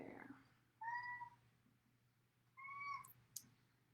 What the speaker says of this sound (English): That would be my cat going crazy.